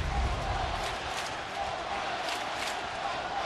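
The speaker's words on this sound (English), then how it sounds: "As the crowd here is chanting home run" Baseball crowd at an Angels at Athletics game in Oakland chanting for a home run, a broad, steady roar of many voices filling the stadium throughout.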